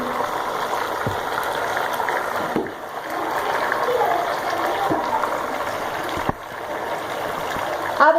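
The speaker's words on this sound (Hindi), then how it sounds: "इसमें ऐड कर देंगे पानी" Water pours steadily into a pot of browned beef nihari, a continuous rushing splash with a few soft clinks of metal along the way.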